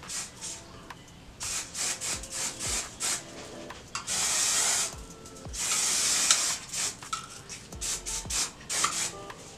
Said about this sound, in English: I go in with this OGX hairspray or whatever. And it blocks humidity, and I just spray it.